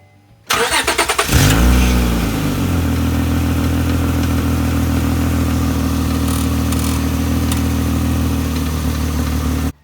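A Honda Pilot with a rusted-out steel power steering line starts up, then settles into a steady, loud idle that runs unbroken with no talking.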